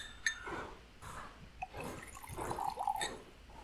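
Single malt scotch poured from a bottle into a glass, a soft gurgling trickle with faint clinks and drips, fairly quiet and steady over a few seconds with no talking.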